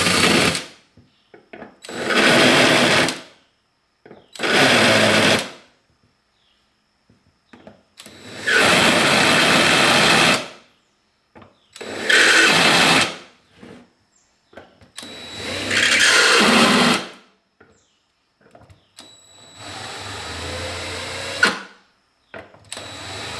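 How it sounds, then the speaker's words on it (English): Cordless drill with a chamfering bit deburring the edge of a hole in a fuel rail, several loud high-speed whirring bursts of a few seconds each separated by short pauses, close by with no talking. "I've got this chamfering bit in the cordless drill, and I'm just gonna, at pretty high speed, I'm just gonna clean up the edge of the hole lightly."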